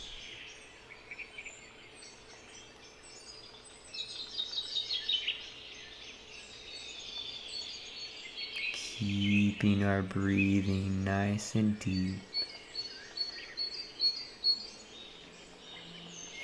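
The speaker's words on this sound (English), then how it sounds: "the array of sounds that we can hear as these birds communicate and chatter back and forth" Birds chirp and chatter faintly in an outdoor soundscape, with soft scattered calls under a quiet spoken voice and a brief louder harmonic call midway.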